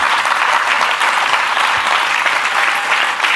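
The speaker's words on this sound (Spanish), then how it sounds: "si le va a aplaudir, apláudale con ganas." Loud, dense applause from a church congregation, a continuous wash of many hands clapping throughout, close and full with no pauses.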